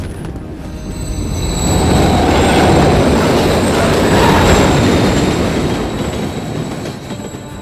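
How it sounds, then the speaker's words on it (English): In the video game Call of Duty, a train rolls past close by, its rumble swelling to a loud roar mid-clip and then easing, with high metallic wheel squeal running throughout. "Another train coming."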